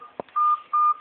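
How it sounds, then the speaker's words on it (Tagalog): A child presses telephone keypad buttons, producing a short thump followed by two sustained dialing tones, close and clear, with no talk over them. "Ito si Abril, nagkikulit ng telepono."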